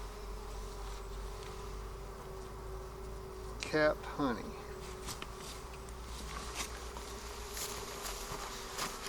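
Bees on a hive frame keep up a constant droning buzz throughout, with a man's brief words and a few light knocks partway through.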